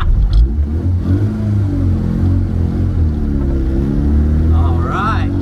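A 1962 Mini panel van with Cooper S disc brakes drives with a loud, close engine drone rising and falling as it revs, with a voice briefly heard over it near the start and end.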